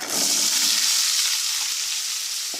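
Cut green beans dropped into a hot pan with cumin and dried chillies for a Tamil beans poriyal, a loud close burst of sizzling and frying that gradually settles into a steady crackle.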